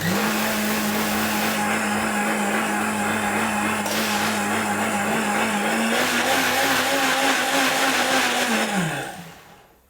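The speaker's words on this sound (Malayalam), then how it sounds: "എന്നിട്ട് ഒന്നുകൂടെ ഗ്രൈൻഡ് ചെയ്തെടുക്കാം നന്നായിട്ട്" A mixer grinder blends grated coconut with curd, its motor whining loud and steady for about nine seconds before winding down as it is switched off.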